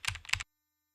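Quick taps on a computer keyboard, two short bursts of close, crisp clicks within half a second, then silence.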